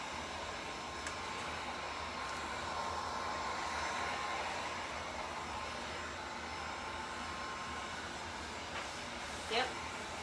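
A heat gun drying paint on an old mirror gives a steady, continuous blowing roar that holds at an even level, with a brief sharper sound near the end.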